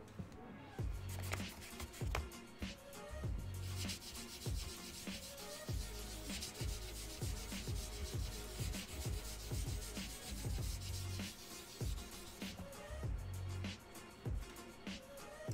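A rubbing tool scrubbing away small areas of dry pastel on paper, close and steady, with rapid repeated scratchy strokes and no talking.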